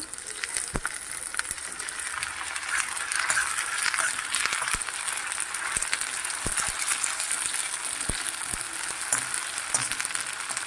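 Ginger garlic paste fries in hot oil for veg noodles, giving a steady soft sizzling hiss broken by scattered crackles and light scraping as it is mixed.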